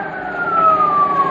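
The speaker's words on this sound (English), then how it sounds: "sounds like a police siren," A police siren sound effect in a 1940s radio comedy show, heard as a steady wailing tone that slowly glides downward in pitch, continuous and fairly loud throughout.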